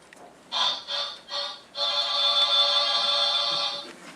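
An old-fashioned telephone bell rings in a vintage radio drama: two short rings, then one long sustained ring, loud and close with no voices over it.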